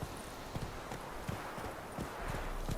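Roach the horse's hooves clip-clopping in The Witcher 3, a steady run of close hoof strikes on ground over a rushing ambient bed, with no voices.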